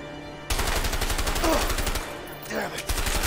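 Rapid automatic gunfire from the video game A Way Out, a fast steady stream of loud shots that runs nearly unbroken after a sudden start, with a brief dip midway and a voice faintly under it.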